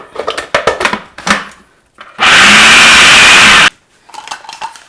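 Hummus in a home food processor roars in a steady, loud blending burst of about a second and a half. Clattering and handling noises come before and after it.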